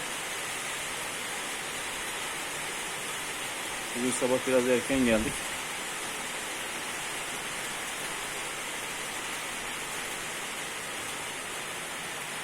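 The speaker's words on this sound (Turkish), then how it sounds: "Dışarıda müthiş bir yağmur var." Heavy rain falls steadily outside a barn, a continuous dense hiss filling the whole stretch, with a brief burst of someone speaking in Turkish partway through.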